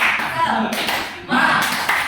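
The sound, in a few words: class doing tepuk semangat clapping routine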